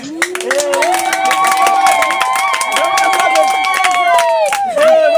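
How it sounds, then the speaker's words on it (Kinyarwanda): A wedding audience claps in a quick, steady rhythm, close and loud, under loud singing voices and crowd noise throughout. "Ndagira ngo mwongere mutange amashyi ko abo basore bacu baberanye"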